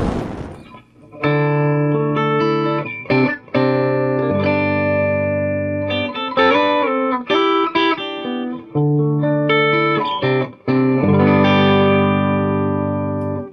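Electric guitar, a Paul Reed Smith Experience Edition, played through a Quarterhorse 25W microamp into a cabinet: loud distorted chords and riffs with sharp stops and restarts, rich sustained tones ringing between bursts.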